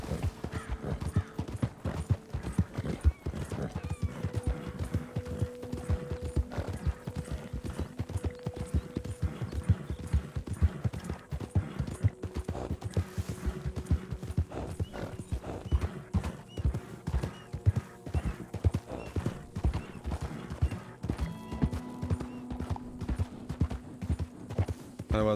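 A horse gallops in Red Dead Redemption 2, its hooves clip-clopping in a quick, steady rhythm close by for the whole stretch, with occasional faint tonal game sounds underneath and no speech.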